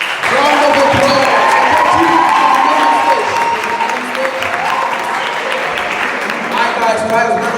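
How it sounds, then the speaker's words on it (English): An audience at a FIRST LEGO League practice robotics presentation breaks into sustained applause and cheering, with loud clapping and bright shouts and whoops layered over the crowd throughout. "Round of applause."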